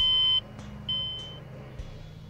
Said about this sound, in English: the operator is alerted by the audible alarms